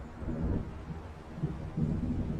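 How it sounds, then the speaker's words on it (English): Approaching thunderstorm in the game Alan Wake, low rolling rumbles swelling and receding over steady rain-like noise, moderately loud with no voices. "It seems there's a storm coming."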